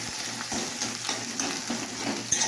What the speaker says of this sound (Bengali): যত ভাজা হবে তত তেল বেরোবে।